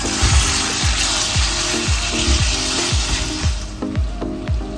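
Chicken seasoned with black pepper and salt fries in a pan, giving a loud, steady sizzle with a regular scraping rhythm from stirring about twice a second; no one talks.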